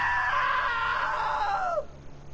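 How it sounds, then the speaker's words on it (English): A loud, sustained scream from the video game What Remains of Edith Finch, held high and sliding downward before cutting off abruptly into faint room noise. "Now that was a great scream."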